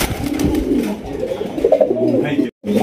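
A pair of golla fancy pigeons at a farm coo in low, throaty, rolling murmurs, close and steady, with a brief drop-out near the end.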